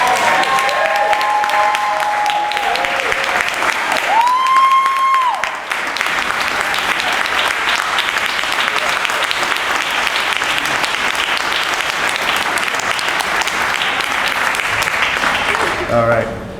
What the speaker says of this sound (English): just give me if we can honor him very quickly with a round of applause